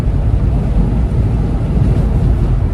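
A strong storm gust front of rear-flank downdraft wind buffets hard and constantly, a loud low roar of wind noise with no talk.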